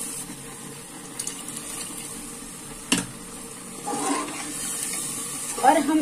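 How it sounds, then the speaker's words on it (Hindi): Water is poured into a cooking pot of boiled white peas simmering in spices, a short splashing gush near the end following quieter kitchen clatter and a sharp knock. "अब हम इसमें पानी ऐड करेंगे।"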